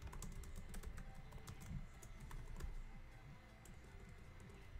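Computer keyboard typing, rapid light clicks scattered through a continuous background rumble, fairly faint and somewhat distant.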